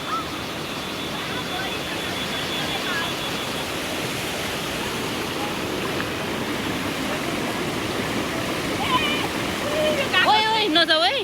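A mountain stream, or khola, in Nuwakot rushes in a steady broadband wash, with faint voices and a few brief chirps near the end.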